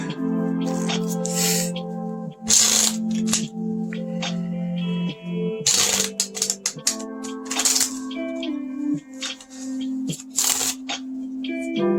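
Large tarot cards being shuffled by hand, several short bursts of riffling and flicking card noise separated by pauses, close up, while calm background music plays steadily underneath.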